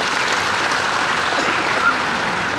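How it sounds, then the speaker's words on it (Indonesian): An audience claps in steady, dense applause at a civic gathering honoring a mayor's term in Magelang, with even, continuous hand clapping throughout and no voices. "Demikian tepuk tangan untuk kita semuanya."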